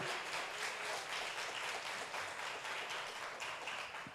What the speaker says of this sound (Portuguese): Aplauda ao Senhor, querido.